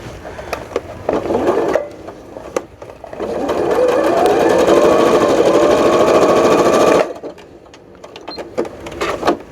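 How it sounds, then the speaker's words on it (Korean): A home sewing machine runs with a strange noise from its bobbin case while a glasses case and pencil case are being sewn. It gives a loud steady whir lasting several seconds, with scattered clicks and taps before and after. "북집에서 이상한 소리 나는 것 같은데?"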